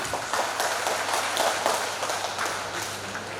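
Audience applause at the Pesta Bolon Parsibona Jabodetabek 2026 gathering, a brief wash of many hands clapping at moderate distance, steady and fairly soft.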